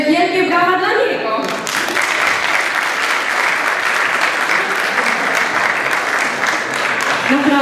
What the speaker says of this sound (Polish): także wielkie brawa dla niego.